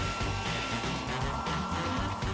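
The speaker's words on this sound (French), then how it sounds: "Vite, le sèche-cheveux!" A hair dryer blows hot air in a steady, loud whoosh with a constant motor hum, running alone without pause.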